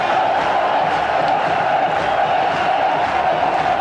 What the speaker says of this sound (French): regardez ce public qui applaudit son équipe, qui crie son équipe, qui chante depuis tout à l'heure